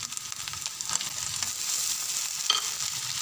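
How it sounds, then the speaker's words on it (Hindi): Tomatoes dropped into a pan of frying ginger and garlic, a soft steady sizzle with stirring scrapes and a couple of brief clinks, fairly quiet and without speech. "अब हम इसमें टमाटर डालेंगे"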